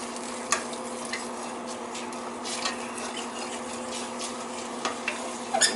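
Rice pilaf mixture stirred in a pot, a steady soft scraping and swishing with faint sizzle, punctuated by a few light clinks of utensil against metal.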